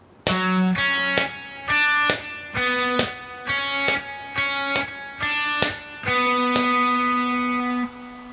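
Electric guitar plays a phrase from Attack on Titan Season 2 at a slow pace, with eight evenly spaced plucked chords ringing clearly, the last one held longer, and no talking.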